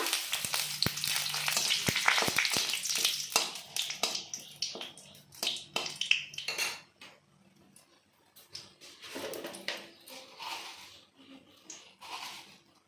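Dried red chillies and bay leaf frying in oil, a loud crackling sizzle with rapid popping at first that gradually thins into sparser, quieter spits and crackles.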